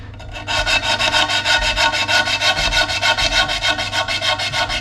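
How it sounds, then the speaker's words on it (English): A long strip of sandpaper is rubbed back and forth on a turned beech wood yarn bowl, giving loud, close, rhythmic rasping strokes in a fast, steady cycle with no talking. "Cut a long strip of sandpaper."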